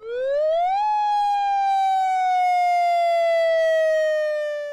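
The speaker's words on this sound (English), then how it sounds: "the city's Lahar siren upgrade that would be used to warn Valley residents about a mud flow" A Puyallup lahar warning siren, built to alert valley residents to a mudflow off Mount Rainier, sweeps up in pitch over the first second, then holds one loud, steady wail that sags very slowly, with no voices.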